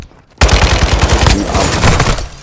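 Gunfire in Call of Duty Modern Warfare II, starting abruptly after a brief quiet moment, then a loud, rapid automatic burst of shots in a fast, even rhythm that continues for about two seconds.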